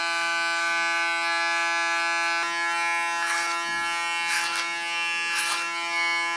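A Panasonic electric hair clipper cuts very short hair, giving a steady close-up electric buzz with a strong fixed hum. The motor drones without a break, with brief brighter rasping bursts as the blades pass through the hair.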